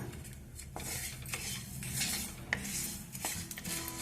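Black seeds dry-roast in a pan with quiet, scattered crackles and pops, mixed with the close scrape and clink of a utensil stirring against the metal.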